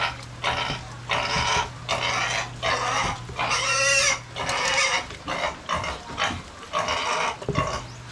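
Piglet grunting and squealing in repeated bursts, close and fairly loud, on a small farm where chickens are also kept, with a steady low hum underneath.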